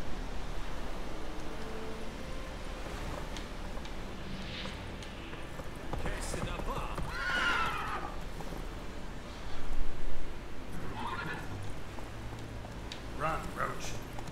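A horse gallops in The Witcher 3, its hoofbeats running steadily under game ambience and a voice.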